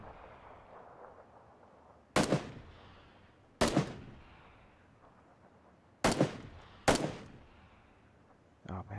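Four sharp, loud gunshots from a pistol or micro Uzi in the battle royale video game PUBG ring out at irregular intervals. Each one is followed by a short decaying echo over a quiet background.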